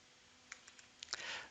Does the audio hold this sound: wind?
no